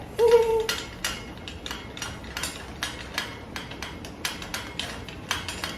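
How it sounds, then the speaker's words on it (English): A Nectar bed frame being assembled: after a brief tonal metallic ring, a run of regular close ratcheting clicks as a screw is driven in, crisp and evenly spaced, with no voices. "Now we screw this in, just like that."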